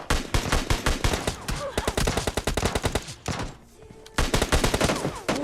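Automatic gunfire in the mobile game PUBG Lite comes in rapid, loud bursts of evenly spaced shots, broken by a brief lull before another sustained volley.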